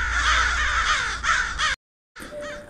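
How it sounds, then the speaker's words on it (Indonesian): Black crows caw loudly in a dense overlapping flock, harsh repeated calls near and continuous, then a brief gap of silence before more cawing resumes. "Tak kala burung-burung gagak hitam berhamburan saat pintu sanggar itu dibuka."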